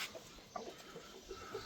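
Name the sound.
tiger breed roosters clucking on a rooftop farm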